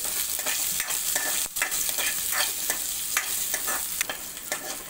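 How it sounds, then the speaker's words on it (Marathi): Ginger and garlic pieces fry in hot oil with a dense, constant crackling sizzle, close and fairly loud, with occasional stirring scrapes. "आलं आणि लसूणचा कच्चापणा जाण्यासाठी आपण ते थोडे तेलामध्ये फ्राय करून घेऊया"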